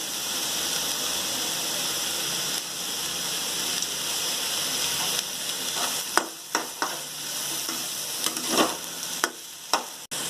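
Chopped vegetables sautéing with softened onions in a pan, a steady close sizzle followed by several sharp spatula scrapes and clanks as the mixture is stirred.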